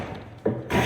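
A smoothing plane shaves thin curly wood shavings on a race car project, giving short dry rasping swipes, two quick close strokes with a brief pause between.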